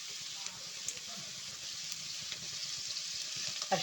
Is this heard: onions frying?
yes